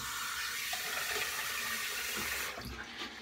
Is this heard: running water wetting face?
yes